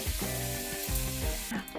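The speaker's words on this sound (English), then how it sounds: "You want to probably brown the lamb over a high heat" Lamb browning in a pot over high heat for a lamb curry, giving a close, steady sizzle with faint stirring under it.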